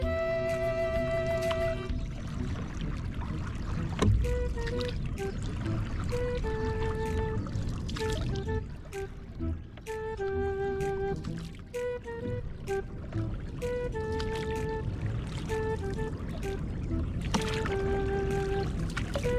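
A small outrigger boat runs on the water with a steady engine drone and splashing, and a sustained tonal hum rises and falls over it, continuous and fairly close for the whole stretch.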